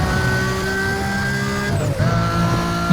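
A car drifting in the racing video game Need for Speed Most Wanted, its engine droning loud and steady with a brief dip as the pitch shifts, then revving on.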